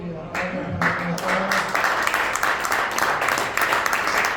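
Audience applause breaking out after a King of spades card trick at a golf club gathering: a burst of mixed clapping from a moderate crowd, steady through the few seconds with some voices underneath.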